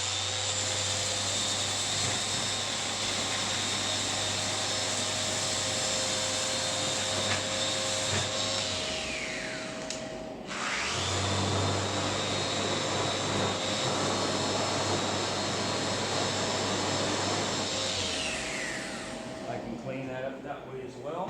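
A random orbit sander shapes the arch of a small wooden bench with a loud, steady whine, stopping briefly midway and spinning back up, while a person talks over it.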